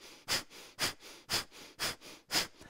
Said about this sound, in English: Snap the abdomen back, and forcefully exhale out the nose.